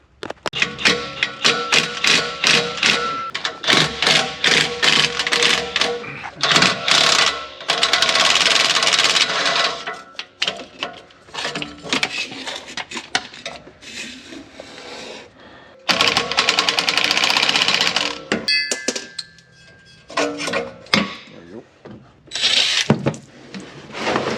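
A power tool zips off bolts on a Jeep TJ in rapid whirring bursts, loud and close, with pauses between runs and several separate rattling spells.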